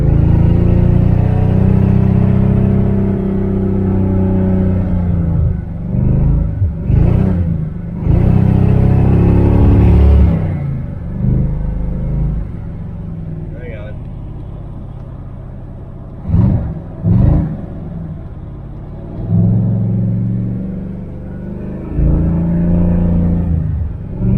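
A 1978 V8 Nova hot rod engine revs hard while driving, with loud low rumbling pulls rising and falling as it shifts between gears, close and continuous throughout.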